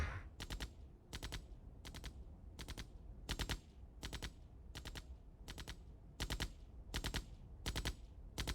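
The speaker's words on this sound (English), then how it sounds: "I hear gunfire." Repeated bursts of automatic gunfire from Command & Conquer Remastered, the classic real-time strategy game, arriving in regular short volleys about every half second to second over a low game background hum, with no talking.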